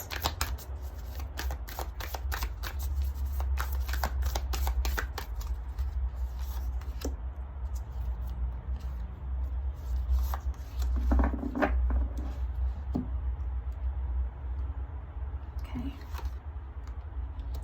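Tarot cards shuffled for a reading, a rapid run of crisp riffling flicks at the start, then scattered softer card handling and slides, close, with a voice talking quietly at times.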